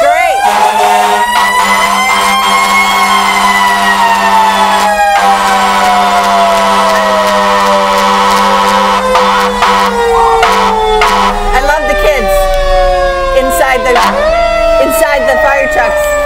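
Fire truck sirens wail at a Christmas parade in Falmouth, loud and near, with long sweeping tones, sharp horn blasts and a crowd murmuring underneath.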